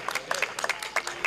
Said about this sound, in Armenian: Եկեք ծափահարենք Վայքի քաղաքապետին